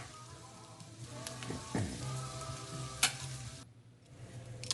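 Food sizzling in a hot pan while Salisbury steak is cooked, a soft crackling hiss with a few clinks and a stirring scrape, easing off near the end.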